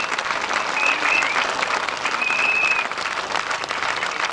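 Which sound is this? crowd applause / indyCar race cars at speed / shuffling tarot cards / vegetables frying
crowd applause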